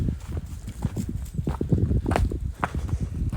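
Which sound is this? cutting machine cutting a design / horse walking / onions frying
horse walking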